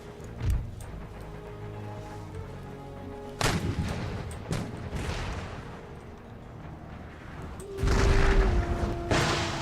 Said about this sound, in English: So this is 4 guns, 4 batteries of demi cannons, and they have just killed 2 members of their garrison.